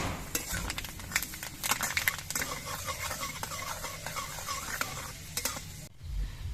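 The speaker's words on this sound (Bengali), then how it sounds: "তেলটা গরম হয়ে যাওয়ার পর এর মধ্যে আমি এক চামচ মেথি দিচ্ছি এই মেথিটা আমি ভেজে নেব" Fenugreek seeds frying in hot mustard oil in a wok, a crackling sizzle with scraping spoon strokes and clinks of the pan, steady and close, ending abruptly.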